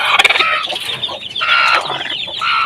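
Hens cluck in a backyard poultry coop, close and loud, their overlapping throaty calls rising and falling in quick uneven bursts with no pause.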